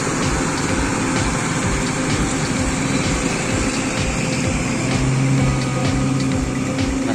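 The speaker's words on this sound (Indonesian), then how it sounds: "Masih halus suara mesinnya." A Kramat Jati Bagaskara bus engine runs at Kajen terminal in Pekalongan, a steady, smooth, continuous rumble heard close and loud with no speech.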